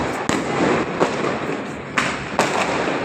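New Year fireworks crackle in a dense continuous barrage, punctuated by several sharp booming explosions at irregular intervals, loud and close.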